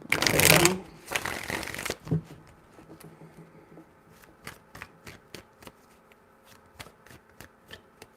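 A deck of cards is shuffled up close, a loud riffle burst followed by a second, then a series of sharp, spaced taps and flicks as cards are squared and dealt.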